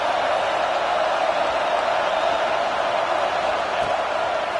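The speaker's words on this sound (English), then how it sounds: "this crowd trying to help keep them there" Steady, dense roar of a football stadium crowd at an Oregon game, a continuous broad wash of massed voices cheering at even loudness throughout, with no distinct individual voices standing out.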